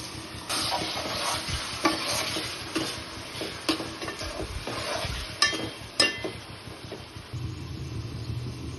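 Chopped tomatoes frying in a pan for Andhra-style prawn curry: a continuous hiss and sizzle broken by sharp scraping clicks of a spoon stirring, close and fairly loud with no talking.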